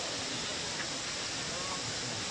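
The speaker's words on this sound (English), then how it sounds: "it's called the Steinhöfer waterfall" Steinhöfer waterfall in Bergpark Wilhelmshöhe during the Wasserspiele, a steady, dense rushing of falling water close by, continuous and unbroken.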